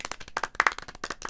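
Brisk clapping from a small group inside the video game Doki Doki Literature Club, a short burst of sharp, dense hand claps with no talking over it.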